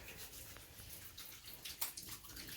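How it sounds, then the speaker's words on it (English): A kitchen tap runs while hands are washed under it, giving a soft, steady splash with small shifting bursts and drips; fairly quiet and alone. "I'm gonna wash my hands real quick"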